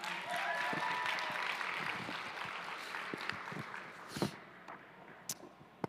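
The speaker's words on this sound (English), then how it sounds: "A round of applause for Brock Tessour" An audience at a women's convention applauds an illustrator, a full burst of clapping that starts strong and gradually thins out into scattered individual claps.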